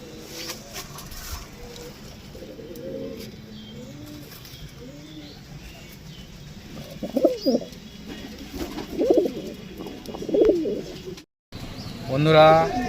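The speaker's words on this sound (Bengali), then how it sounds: "পায়রা স্ট্যান্ডিং দেখুন।" Rampuri pigeons coo in a series of soft, rolling calls that grow louder and more frequent toward the end, with faint background voices.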